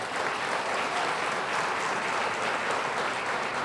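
Board of Trustees meeting audience gives a steady round of applause, dense clapping sustained at even loudness throughout with no talking over it.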